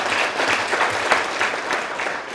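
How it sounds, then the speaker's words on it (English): An audience bursting into brisk, steady clapping that fills the room evenly, dense and fairly loud throughout. "A more serious clap than that."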